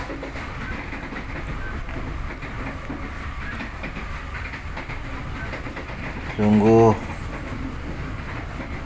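Economy-class Serayu passenger train on the Jakarta–Bandung line gathering speed, a steady low rumble of wheels on rails throughout with a brief louder tonal burst near the end, a voice speaking briefly.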